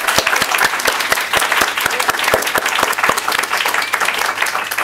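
Sustained audience applause for student artists at a book arts student showcase, dense steady clapping from a crowd with a few sharper claps standing out near the front.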